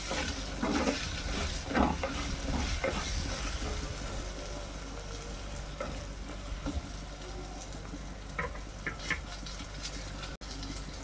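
Steady sizzling from a hot pan of tamarind-leaf and dried-fish curry with mango pieces, with occasional scraping and stirring sounds, continuous and fairly close throughout.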